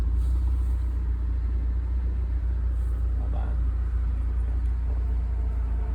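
A 1984 Spider car engine while driving on a back road, a deep steady low rumble from inside the cabin, constant and loud with little change in pitch.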